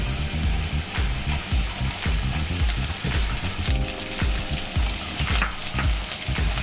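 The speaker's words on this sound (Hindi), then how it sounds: "हम थोड़ी देर पोटैटोस फ्राई करेंगे." Potatoes fry in hot oil in a pan for a vegetable Maggi dish, a steady dense crackling sizzle with occasional stirring scrapes, close and continuous throughout.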